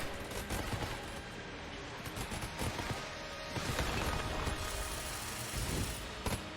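Rapid, sustained gunfire from a weapon in the dungeon-crawler shooter Enter the Gungeon, with dense overlapping shots and impacts running loud and continuous throughout, with no voice over it.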